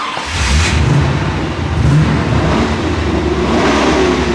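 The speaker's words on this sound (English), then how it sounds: "start your engines" Loud hot rod engines revving and roaring close by at a car show, rising and falling in a continuous throaty growl.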